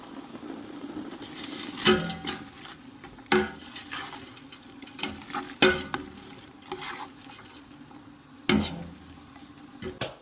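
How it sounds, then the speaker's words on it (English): Chopped onions and frozen garden green peppers cook in a pot for minestrone soup, with a steady sizzle broken by several sharp scraping stirs and clanks of a utensil against the pot. "while my onions and peppers are cooking"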